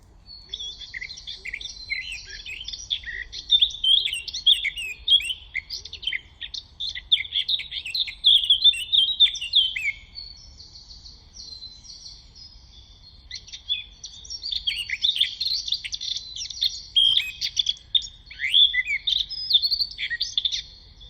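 A blackcap sings rich warbling phrases in two long bursts separated by a pause, clear and fairly close, with no other sounds.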